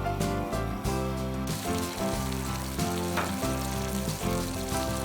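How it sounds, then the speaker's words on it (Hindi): Mutton for aloo gosht frying in oil in a pan, a steady, dense sizzle that stays loud and continuous throughout, with a few brief bursts of crackling. "मटन ने ऑयल छोड़ दिया है, जिसका मतलब कि मटन अच्छी तरह से भून गया है।"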